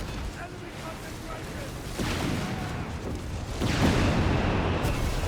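White phosphorus barrage in Company of Heroes 3, a dense continuous rumble of distant artillery explosions that builds in loudness, with a heavier burst of impacts near the end and no pauses.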